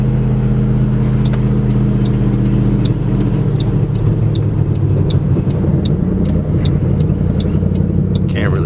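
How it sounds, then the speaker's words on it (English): A car with a manual transmission drives along, giving a steady loud low engine and road rumble throughout, with faint periodic ticking above it and no talk. "Can't see out the back window, but the car is moving."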